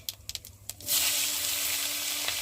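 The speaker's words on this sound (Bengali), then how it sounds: "আর দেবো কটা কাঁচা লঙ্কা দিয়ে একটু ভালো করে পেঁয়াজটা ভেজে নেব।" Onions, whole cumin and green chillies drop into hot oil for a Bengali rohu fish curry, a few clinks giving way to a sudden, loud, continuous sizzle held close up without speech.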